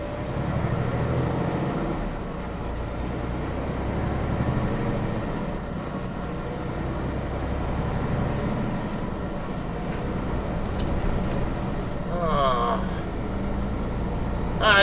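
A truck rumbles in California road traffic, heard from a nearby car as a low, steady engine drone with a brief hiss of air brakes released near the end.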